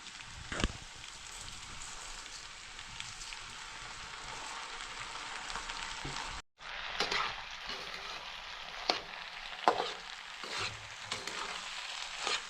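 Vegetables sauté in oil in a pan with a continuous soft sizzle and occasional stirring clicks, and a brief drop to near-silence partway through.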